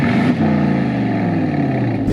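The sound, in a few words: Aston Martin DBX exhaust sound in GT mode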